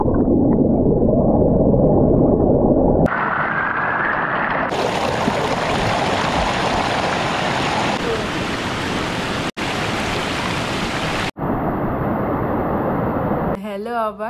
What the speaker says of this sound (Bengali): দেখুন এরকম জলটা আসছে।